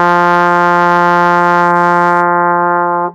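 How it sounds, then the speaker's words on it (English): A trombone holds F in first position as a single bright, steady note, loud and close, sustained for about three seconds before a clean release. "It's F. Slide comes all the way into first position, and it sounds like this."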